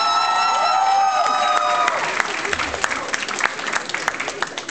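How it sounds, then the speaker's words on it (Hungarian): An audience at a school class's entrance event breaks into applause, starting after a sustained tonal sound fades and growing into scattered, uneven clapping mixed with some crowd noise. "Ide most már tapsol."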